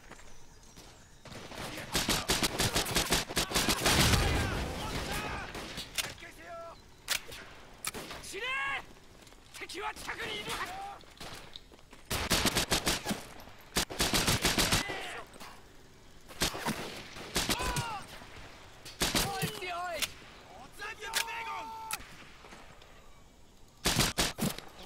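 Rifle fire in Medal of Honor Pacific Assault, with repeated loud bursts and single sharp shots in irregular clusters amid battle noise, while someone talks between the volleys.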